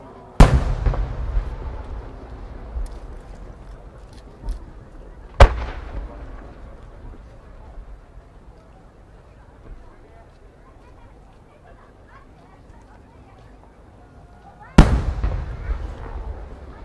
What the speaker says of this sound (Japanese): 創造花火ノーザンライツ